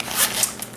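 A zipper running around the edge of an Urban Decay Smoked eyeshadow palette's packaging, one quick close rasp lasting under a second.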